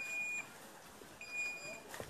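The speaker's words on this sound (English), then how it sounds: "we're giving you an alarm system that will prompt you that the system is still working" A hand washing machine's alarm gives short, thin electronic beeps, two faint tones about a second apart over quiet background hiss.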